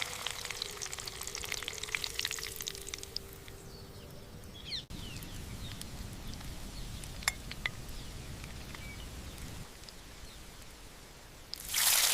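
Miniature fried chicken cooks in a tiny pan over an open village-style fire, a soft, steady sizzle with scattered crackles that fades after the middle, then a brief louder burst at the end.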